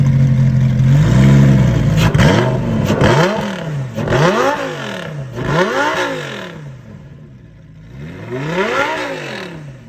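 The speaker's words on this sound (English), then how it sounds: "So we're gonna get the engine started up, record the audio of the engine" Lamborghini Sesto Elemento engine catching and revving hard, several sharp rising-and-falling blips in a row, loud and close, then a pause before one last rev.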